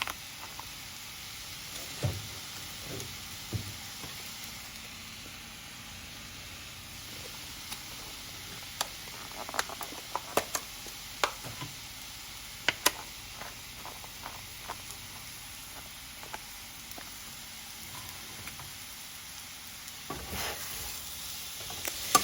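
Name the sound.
home fries frying and being stirred in pan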